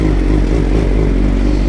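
Suzuki GSX-R superbike on a midnight city ride, its engine a loud, steady, close drone that holds without a break and has no voices over it.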